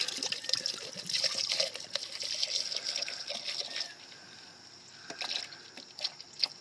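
Sea Foam fuel additive is poured from its bottle into a Cummins diesel fuel filter, a steady close trickle of liquid filling the filter that tapers off near the end, with no talking.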